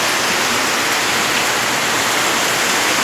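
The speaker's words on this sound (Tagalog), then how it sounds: "Sobrang lakas ng ulan." Very heavy rain pours down in a dense, loud, unbroken roar at a rural home, with no break in the downpour.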